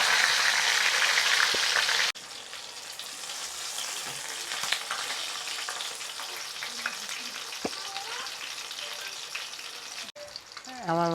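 Rupchanda fish frying in a pan of oil over medium heat, a close, steady hiss and crackle of sizzling that runs throughout, with a few faint clinks and a brief tonal sound at the end.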